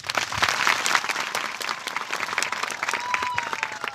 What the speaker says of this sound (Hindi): एक अच्छी ताली प्रभु के लिए।